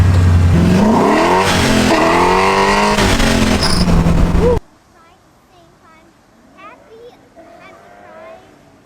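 An LS3 V8-swapped BMW E36 screams at high revs while drifting, loud and sustained with rising and falling pitch, then cuts abruptly to a quiet cabin with faint chatter.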